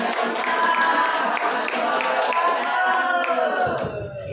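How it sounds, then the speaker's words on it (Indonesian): A crowd at a teachers' stand-up comedy event claps in a continuous, even wash of applause for several seconds, with a voice and crowd murmur blending in as it tapers off. "Tepuk tangan yang meriah sekali lagi."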